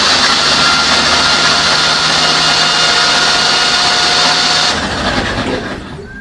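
An old engine turns over on a remote starter while it expels oil from its cylinders, giving a loud, steady, whirring crank for about five seconds that then stops abruptly and fades out.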